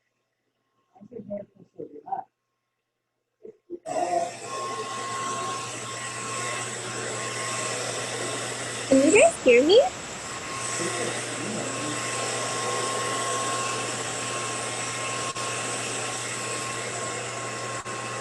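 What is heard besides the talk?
hair dryer blowing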